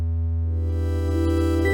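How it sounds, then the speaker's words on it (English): Low sustained synthesizer drone on the first note of the scale, pitched two octaves down, steady and alone, with brighter overtones thickening partway through. "You can hear at the beginning, you hear the drone before the other elements start"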